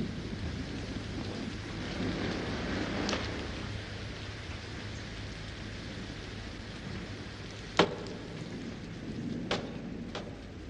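Rain pours steadily outside during a windy storm, a dense constant hiss with occasional sharp cracks and a low rumble of thunder, no voices.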